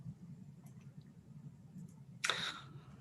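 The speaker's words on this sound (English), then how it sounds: "I'm just clicking on the screen" Faint clicks and taps on a computer screen during an online governing body meeting, a few soft ticks followed by one louder, short clattering burst near the end, over a low background hum.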